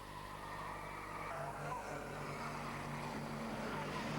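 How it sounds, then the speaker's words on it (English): Several Renault 5 Elf Turbo race cars battle on the final lap at Estoril, their engines droning steadily at a distance in a continuous mid-level blend with no talk over it. "These 4 cars fight it out over the final lap here in Estoril."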